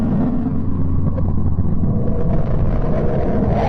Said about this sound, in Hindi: बुध की वाइब्रेशन को सुनने की कोशिश करेंगे तो आपको सुनाई भी देगी। इसकी आवाज कुछ ऐसी है।